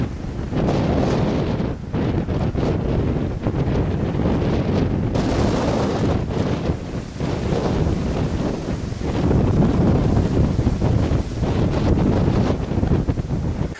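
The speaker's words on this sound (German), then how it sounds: "es ist hier sehr windig teilweise." Strong, gusty wind buffets the microphone in a steady roar during a thunderstorm with hail near Burghausen, Germany, broadband rumble surging and easing continuously for the whole stretch with no talking.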